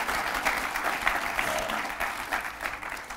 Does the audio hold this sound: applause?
yes